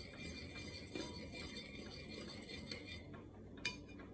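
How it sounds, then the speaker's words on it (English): A spoon stirs tulsi tea in a small cup, giving a steady run of light metallic clinks and scraping against the cup, fairly close and alone with no talk. "We stir it for proper blending."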